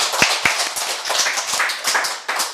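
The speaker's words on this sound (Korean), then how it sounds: "우리 하나님께 감사의 박수 올리겠습니다" Congregation clapping during a Sunday church service, a run of sharp, close handclaps in an uneven, loose rhythm, loud and alone with no voices.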